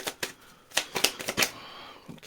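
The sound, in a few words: shuffling tarot cards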